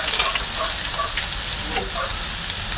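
Saluyot leaves cooking with broth and soy sauce being stirred in a pan: a constant frying hiss with scattered soft scrapes and taps of a utensil, close and fairly loud, no talking.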